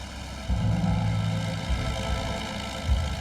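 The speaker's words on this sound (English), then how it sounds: "There's an awful lot of power with the 4 engines, but there wasn't much problem controlling all that." A heavy four-engine wartime bomber opens up to full throttle on takeoff, a deep, sustained droning roar with a rough low-end rumble that swells and holds throughout, no voices over it.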